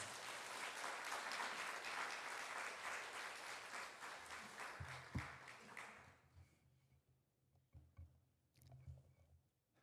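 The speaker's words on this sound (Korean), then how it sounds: "우리 선교사님 나오실 때에 큰 박수로 환영하겠습니다" A church congregation at a Wednesday evening service claps warmly to welcome a missionary, dense applause that runs for about six seconds and then fades into quiet room noise with a few faint knocks.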